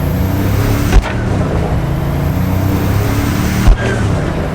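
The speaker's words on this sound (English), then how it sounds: "when I shifted gears, the car really slowed down and growled" Porsche 911 engine in the Cyberpunk 2077 video game, a steady low growling drone of a car running continuously, with two brief thumps where gears shift, no talk.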